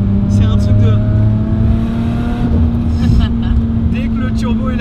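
A light car's turbocharged engine drones and builds under steady load, a sustained low hum beneath a voice talking over it.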